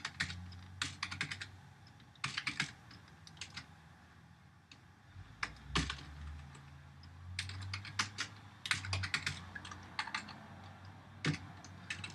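Code being typed on a computer keyboard in bursts of quick, close key clicks separated by short pauses, with a low steady room hum underneath.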